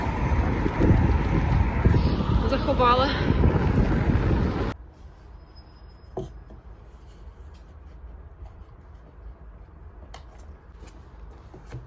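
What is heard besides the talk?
strong wind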